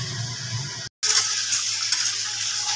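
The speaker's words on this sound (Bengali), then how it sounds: "ভালোভাবে ঝিঙে আর আলুটাকে মিক্স করা হচ্ছে মশলার সাথে।" Ridge gourd and potato being stirred with spices in a frying pan, giving a steady sizzle with scraping and clinks of the spoon against the pan, broken by a brief moment of silence.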